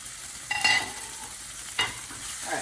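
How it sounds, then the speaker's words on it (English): Dry spices stirred into hot oil in a pan for a spicy salmon curry, with a soft sizzle and two brief scraping strokes of the spoon, close and short. "once you have the spice inside, go ahead and mix it up."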